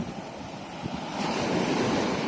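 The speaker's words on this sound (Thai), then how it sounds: "คลื่นแรงมากนะ คลื่นแรงมากเลย" Strong sea waves breaking on a sandy beach on a windy day, a loud continuous roar of surf with wind buffeting the microphone, building in intensity midway.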